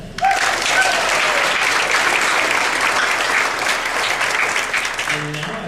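A loud, full round of applause at a college honors convocation, dense clapping from a large crowd sustained evenly across the moment, with a voice briefly audible near the end.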